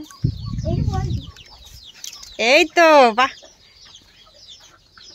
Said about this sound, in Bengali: অনেকগুলো মুরগি আছে গো